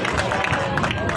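Brief burst of crowd applause and cheering at a pencak silat officers' inauguration event, dense clapping mixed with crowd noise and voices.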